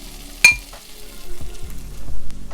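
Onion, ginger, tomatoes and a pinch of salt frying in melted butter in a pan, a soft close sizzle broken by a sharp clank and a few stirring knocks.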